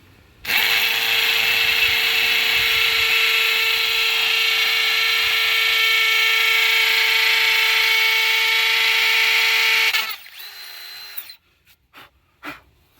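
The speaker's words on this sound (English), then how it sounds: "I've got a cinder block here. I got a masonry bit, and I do have it set on the hammer setting." A Ridgid sub-compact hammer drill in hammer mode drives a masonry bit into a thick cinder block, a loud steady grinding whine held for about ten seconds, then cutting off into a few brief clicks and knocks.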